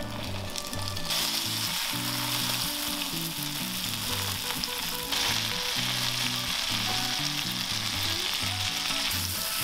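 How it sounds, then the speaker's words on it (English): Fish fillets frying in plenty of butter, a loud, close, continuous sizzle and crackle that runs steadily throughout, with background music underneath. "we can go ahead and fry some fish fillets in lots and lots of butter"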